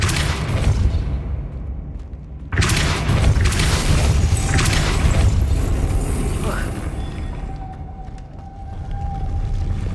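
A Depulso spell cast in Hogwarts Legacy gives a loud, booming force burst that hits sharply, then rolls on as a heavy rumble with a brief whooshing tail.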